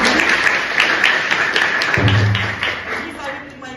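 A crowd at a college celebration applauds, a dense wash of clapping running continuously and tapering toward the end, with a voice briefly heard over it.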